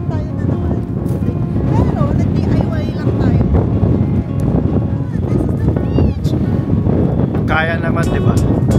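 Strong, cold winter wind blows outdoors in Jeju near windmills, buffeting the microphone with a loud, continuous roaring rumble while a couple of people talk over it.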